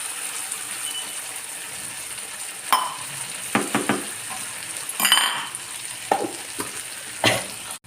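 Ground pirandai (adamant creeper) paste with garlic paste frying in a pan on low heat, a soft steady sizzle with scattered spoon clinks and scrapes against the pan.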